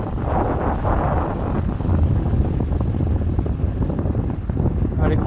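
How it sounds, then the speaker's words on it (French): Heavy rollers breaking on a deserted Vendée beach, a steady close roar of surf with wind rumble swelling and easing, loud throughout with no voices. "Les rouleaux font beaucoup de bruit."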